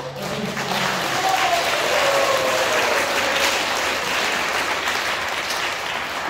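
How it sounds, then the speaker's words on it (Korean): Steady, full applause from a large crowd at a church concert fills the whole stretch, a dense wash of clapping without pause. "큰 박수로 가겠습니다."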